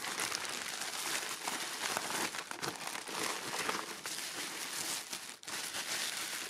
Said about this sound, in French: Je m'excuse pour les bruits de plastique et de papier